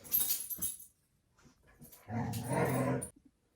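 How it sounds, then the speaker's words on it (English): Several dogs wrestle indoors, giving sharp yips and whimpers followed by a longer growling, grumbling stretch, close by and moderately loud. "the dogs are wrestling and it's throwing off my concentration"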